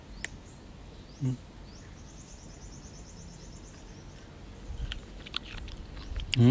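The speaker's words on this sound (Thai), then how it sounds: "ลองเด็ด เด็ดกินเลยเนาะ" Freshly picked, sweet-sour fruit is bitten with a sharp crunch, followed after a pause by more close chewing and biting noises, with faint bird chirps in the quiet background.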